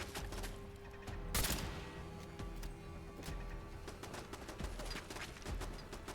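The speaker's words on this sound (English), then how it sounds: "Their own turret gunning down their own guys" An automated turret firing on enemies in Fallout London, a faint rapid burst of gunfire with one sharper loud shot early on, then scattered shots and clatter through the rest.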